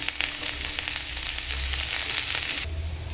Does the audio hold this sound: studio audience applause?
no